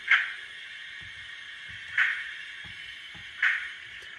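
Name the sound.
cab door slams, Accurascale Pannier Tank model locomotive sound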